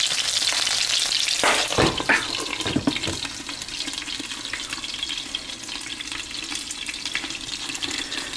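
Chicken wings frying in a covered pan over low heat, giving a steady close sizzle with a few louder crackles and stirring knocks early on, and no talk.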